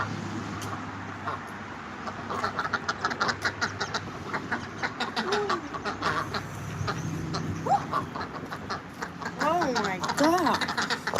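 Ducks quacking outdoors on a cold day, several short harsh calls scattered through the second half, mixed with other bird chatter, a low vehicle hum and people talking nearby.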